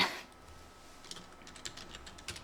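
Fast, light taps on a computer keyboard as text is entered, with close, quiet and slightly uneven keystrokes and no talking.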